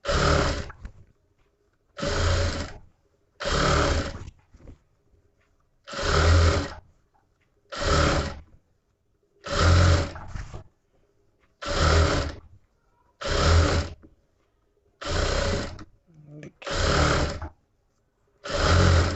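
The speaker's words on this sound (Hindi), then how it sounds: "तो हम फटाफट सिलाई लगा लेते हैं।" A sewing machine runs in short bursts of a couple of seconds each, about a dozen runs separated by brief pauses, stitching piping for a katori blouse; the whirring is close and loud, with no voice.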